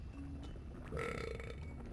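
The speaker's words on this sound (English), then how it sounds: "so this was a burp" A cartoonish burp sound effect from a cog face in the Donkey Kong 64 video game, one short croaking belch rising out of the steady game background partway through.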